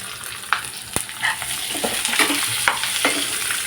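Onions and coconut frying together in a pan, a steady dense sizzle with scattered sharp clicks and scrapes of stirring, close and fairly loud, no voices.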